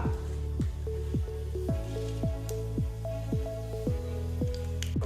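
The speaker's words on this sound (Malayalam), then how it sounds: "ഇതിലേക്കൊരു അര ടീസ്പൂൺ കടുക് ഇട്ട് കൊടുക്കുക" Half a teaspoon of mustard seeds splutters in hot ghee in a pan, giving a steady run of sharp pops and crackles over a soft sizzling hiss, close and fairly loud with no voices.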